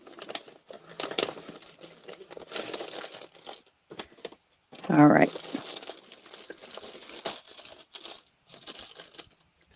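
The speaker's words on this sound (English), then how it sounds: "Pardon the crunchy sound while I find where it opens." Crinkly plastic rustling and crunching close by as a bag is handled and opened, with a person talking quietly over it.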